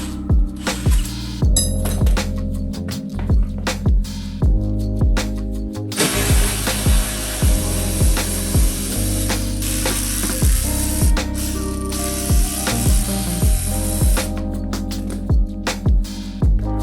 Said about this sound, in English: I'm just gonna jack it up this side